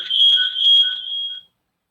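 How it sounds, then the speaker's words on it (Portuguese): A steady electronic notification tone rings out from an online video call, signalling that someone is trying to join; the beep is clear and sustained for about a second and a half before it cuts off into silence. "estou escutando um bip aí de alguém tentando entrar"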